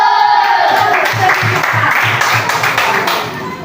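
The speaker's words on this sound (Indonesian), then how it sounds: "Iya, ayo tepuk tangan buat kita." Children in a classroom clap together in a quick rhythmic pattern of about ten evenly spaced claps that fade toward the end, loud and close, with voices mixed in.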